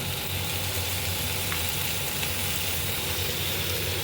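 Ginger garlic paste sizzles and fries in a hot pan for ginger chicken, a steady close hiss throughout with no voices.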